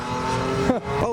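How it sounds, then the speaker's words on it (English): An Alfa Romeo GTA passes at a car show held at a circuit, its engine giving a brief loud revving note with a quick pitch shift, close by. "That sounds like an E46. Oh, it's an Alfa Romeo GTA."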